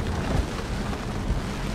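Rain falling in the Peten jungle of Guatemala near Tikal, a dense steady patter and low rumble, close and continuous with no voices.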